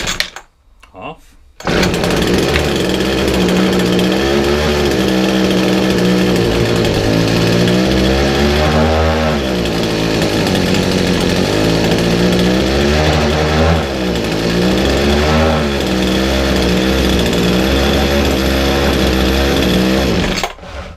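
A trashed McCulloch hedge trimmer engine runs loud and steady for about twenty seconds after a brief start, its two-stroke drone rising and falling in pitch with throttle changes.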